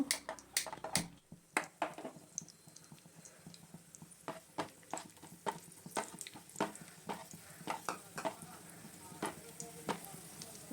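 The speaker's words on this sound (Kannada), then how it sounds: "ಮೀಡಿಯಮ್ ಫ್ಲೇಮಲ್ಲಿ ಎಲ್ಲ ನಟ್ಸ್ನೂ ಫ್ರೈ ಮಾಡ್ಕೋಬೇಕು" Nuts fry in a pan over a medium flame while being stirred, giving quiet crackling sizzle with a series of soft scraping and tapping strokes spread across the whole stretch, fairly faint.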